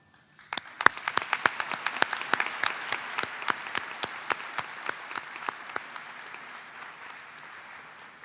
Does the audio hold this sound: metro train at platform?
no